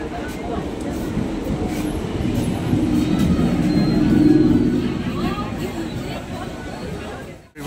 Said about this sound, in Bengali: একটুখানি পরেই ট্রেন আসবে